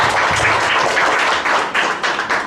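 An audience applauding at a university education seminar in Chile, a loud, dense burst of clapping from many hands that holds steady and then begins to thin out.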